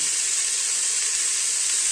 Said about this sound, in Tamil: இப்போ நறுக்கி வச்சிருந்த காயெல்லாம் போட்டுக்கிட்டுங்க.